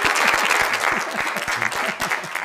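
Studio audience on an Ethiopian game show claps for a contestant, a steady, dense patter of many hands close by, sustained throughout without voices.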